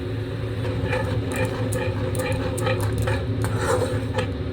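Spice masala with yogurt is stirred and fried in a pan, with repeated light scraping and clinking of a utensil against the pan over a low steady hum, close and moderately quiet.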